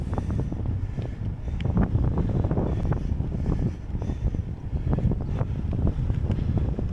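Steady wind roars across the microphone during a cross-country mountain bike endurance race on an Orbea Oiz, a loud continuous buffeting rush with low rumble and scattered knocks, no speech.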